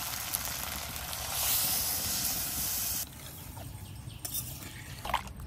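Water poured into a hot pan of chicken curry sets off a loud, bright sizzling hiss of steam for about three seconds, then drops to a quieter bubbling simmer with a few faint clatters.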